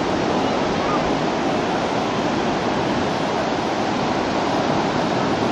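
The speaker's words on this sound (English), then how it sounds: "There's the ocean." Ocean surf rolls in a continuous, loud wash of breaking waves with wind rushing over the microphone and no pauses.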